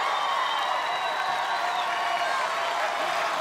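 A cheering section of spectators roots for a competitor at an obstacle-course qualifying event, a steady, fairly distant crowd roar with whoops and scattered clapping, with faint commentary beneath it.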